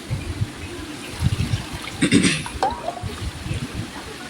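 Tamarind water mixed with chili powder is poured into a pot of rajma vegetable curry, giving a short liquid trickle and splash that swells briefly in the middle, with faint background noise around it.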